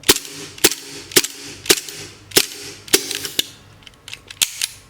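Sharp gas-powered shots from a second-hand Double Bell M92 gas BB pistol, about ten cracks in a steady semi-automatic rhythm, loud and close, with no talking.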